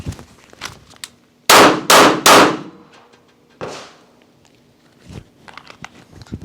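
Live handgun fire during a defensive shooting drill: three sharp, close shots in quick succession and a fourth after a short pause, with small clicks and handling noises around them.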